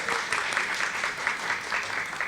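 A room of audience members gives a round of applause at a community library services event, steady moderate clapping heard a little way off and continuing throughout.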